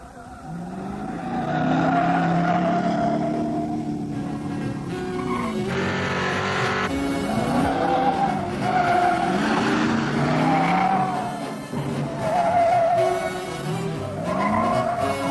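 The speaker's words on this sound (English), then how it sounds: "Our test car came with a standard 351 cubic inch V8, topped with a 2-barrel carburetor." A 1970s-era Mercury Cyclone GT with a 351 cubic inch V8 and 2-barrel carburetor drives hard, its loud engine rising and falling through gear changes with tire squeal, continuous and close without talk.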